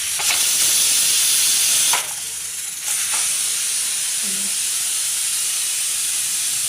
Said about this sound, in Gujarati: મેં કુકરમાં મૂકી દીધું છે દાળ ભાતની દાળ બાફવા માટે